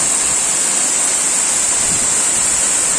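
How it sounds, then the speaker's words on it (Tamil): A waterfall at Sadhasivakona Hills near Puttur roars loud and close after heavy rain, a steady dense rush of falling water with no voices. "அருமையான வாட்டர் ஃபால்."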